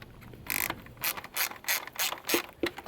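A T15 Torx driver ratchet backs out the screws on a 2010 Jeep JK headlight retaining ring, giving several short bursts of rapid clicking in an irregular rhythm, close and fairly faint, with no talking.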